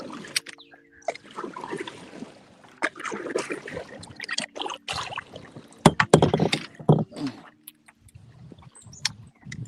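Paddles dip and pull through water with splashes and drips, uneven strokes under intermittent talk and rustling, fairly close.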